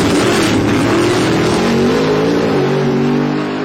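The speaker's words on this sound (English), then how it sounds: "The Motion Raceworks truck, 632 cubic inch big block Chevy on board" A drag racing pickup truck with a 632 cubic inch big block Chevy engine roars loudly at close range, a sustained heavy rumble with a deep harmonic drone that shifts slightly in pitch and fades a little at the end.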